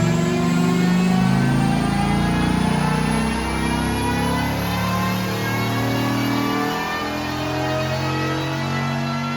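A second-generation Dodge Viper V10 revs steadily on a chassis dyno, a loud, sustained engine drone with shifting harmonic pitch that holds close and continuous throughout, with no talking.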